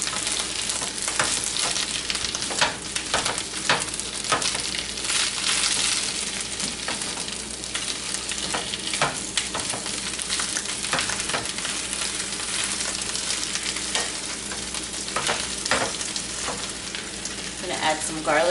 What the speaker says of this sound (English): Get some olive oil on the pan. Going to kind of cook the spinach down